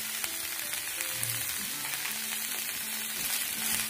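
Salted cauliflower florets fry lightly in a pan, producing an even, moderately loud sizzle with a faint steady hum beneath and no talk.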